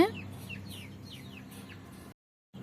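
Several chickens cluck in short repeated calls nearby in a village, a soft background hum beneath, then a brief silence before the sound resumes.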